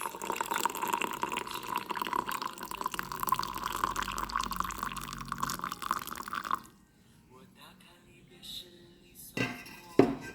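Boiling water is poured into a glass in a steady, fairly loud liquid rush for about six seconds, then stops, leaving quieter room sound with a few light clinks toward the end.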